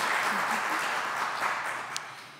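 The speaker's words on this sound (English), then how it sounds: "Now let's give our candidates a big round of applause." Audience applause at a Denver clerk and recorder candidate forum, a steady broadband wash of clapping that holds throughout and slowly fades toward the end, fairly quiet and distant.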